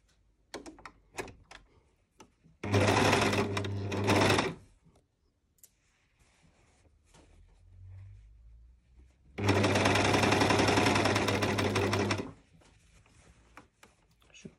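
A sewing machine stitches seams of men's boxer shorts in two loud, close runs of rapid needle chatter, separated by quiet handling clicks and soft fabric noises.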